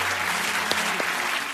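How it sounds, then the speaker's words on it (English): Studio audience applause for a comedian on a radio comedy show, a steady dense wash of clapping throughout, moderately loud and close, with no talk over it. "Angela Barnes, give her a bigger round of applause."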